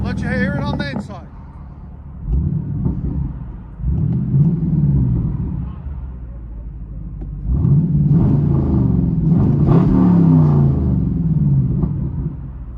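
A 2011 Chevy Camaro SS 6.2L V8 with true dual straight-pipe exhaust and X-pipe delete rumbles from inside the cabin, revving in several deep, swelling pulls between idle, with brief talk at the start.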